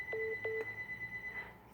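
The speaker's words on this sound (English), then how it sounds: "Sorry about my phone ringing in the background." A telephone rings in the background during a live psychic reading, its electronic tones coming in a few brief repeated pulses, fairly quiet and distant.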